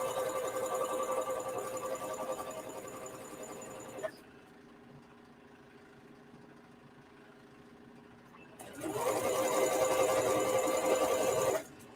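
Sewing machine running a zigzag stitch around a fabric edge, a steady whirring motor run that stops for a few seconds of quiet, then starts again.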